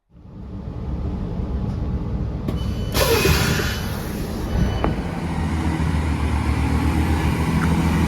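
A Chiltern Class 165 diesel unit, number 165022, pulls away from a station on the Chiltern Main Line, a steady engine rumble building and continuing throughout, with a brief squeal partway through and no talking.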